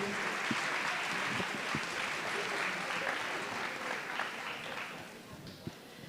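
An audience applauds to welcome a woman mayor at a seminar on autism, a steady dense clapping that holds for several seconds and then thins out toward the end.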